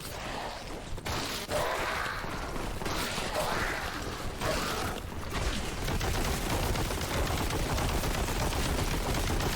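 Gunfire in the video game Warhammer 40,000: Boltgun, a sustained barrage of rapid shots and mechanical clatter at constant volume, with a few brief gaps early on.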